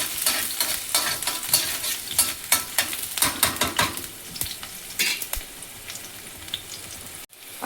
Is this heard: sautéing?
yes